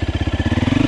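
A KTM 350 Freeride enduro motorcycle idles up close, its single-cylinder engine chugging in a steady, rapid pulse that rises slightly toward the end.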